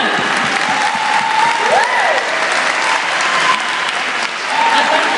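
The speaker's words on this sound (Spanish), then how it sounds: "un aplauso para ellas, por favor" A large audience at a cosplay runway show applauds the event organizers with continuous dense clapping, loud and steady for several seconds, with faint whistles rising briefly above the crowd.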